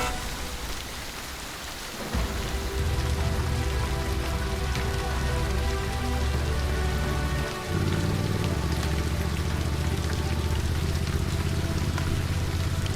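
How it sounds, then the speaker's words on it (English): Heavy rain pours steadily during a storm on a mountain trek near Deoria Tal lake, a dense continuous hiss that grows louder after a couple of seconds, with a low rumble underneath and no voices. "the rain drained off all our body heat"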